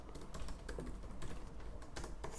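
Quiet, irregular keystrokes come from a computer keyboard as code is typed, soft clicks in quick uneven bursts at a low level with no voices.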